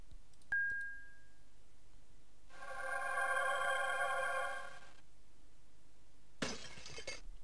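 Glass shattering in the video game Lands of Lore: a single bright, crashing break near the end, loud against quiet, following an earlier chime and a sustained ringing magical tone.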